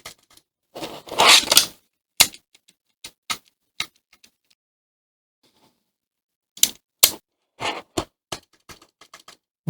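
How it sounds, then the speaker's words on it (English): A homemade DaVinci Resolve Speed Editor gives sharp, dry button clicks, close and isolated, with scattered single presses, a short rattling cluster early on, and a quiet gap in the middle. "Well, it does click. It's the first button."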